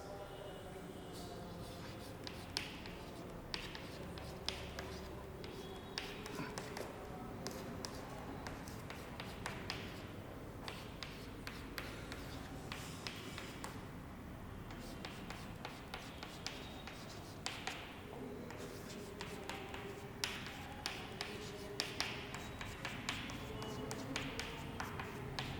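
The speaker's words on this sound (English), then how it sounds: "I will write the full equation" A pen or marker writes a chemical equation by hand, steady close scratching strokes with frequent light taps across a long stretch, quiet and uninterrupted by speech.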